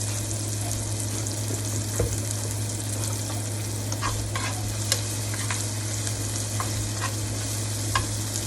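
Vegetables sauteing in a skillet for cube steak and gravy, a steady close sizzle with occasional scraping stirs of a utensil against the pan, a low hum underneath and no talking.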